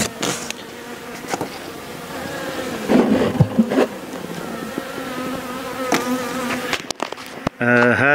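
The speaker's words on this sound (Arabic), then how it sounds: "هذه هي الخلية من الداخل. بعدما دخلنا عليها قليلا نبدأ بالفحص" Honey bees buzz steadily inside an opened beehive during an inspection, a close, dense hum running throughout with a few louder passes near the microphone and brief handling knocks near the end.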